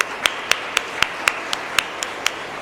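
Sharp single claps at a steady, evenly spaced rhythm, about nine in under three seconds, ring out in an auditorium audience setting over a low background hum, sounding like one or a few people clapping rather than full applause.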